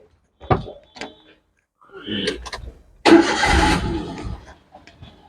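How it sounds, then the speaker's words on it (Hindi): A Maruti Alto 800 car engine, just cleared of a P0607 fault code, cranks and catches in one loud burst that runs for over a second and then settles, after a few short clicks and knocks, with no talking. "अब हम गाड़ी स्टार्ट करेंगे"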